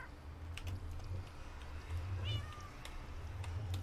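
A cat in the video game Minecraft meows a couple of times, faint and brief over a low steady background hum.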